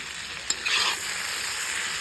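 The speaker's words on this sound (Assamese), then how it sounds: "এয়া লাই দি অলপ টাইম ইয়াতে ভাজি তাৰপিছত পানী দিম" Mustard greens (lai leaves) frying and being stirred in a pan, a steady close hiss of sizzling with a sharp scrape of the spatula early on.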